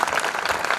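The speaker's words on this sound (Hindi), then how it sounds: "ताली बजा कर इतना बता दो, ये मुर्दों की महफिल नहीं है" Audience clapping at a Hindi kavi sammelan poetry gathering, a dense steady burst of applause heard up close and alone.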